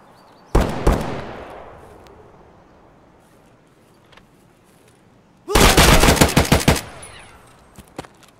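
Loud close gunfire in the video game Escape from Tarkov: a single heavy shot with a long echoing tail, then a rapid full-automatic burst of shots lasting over a second.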